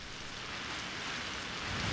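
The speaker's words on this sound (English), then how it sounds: "It's fucking raining, isn't it?" Rain falls outdoors as a steady, soft, broadband hiss, even and continuous without distinct drops.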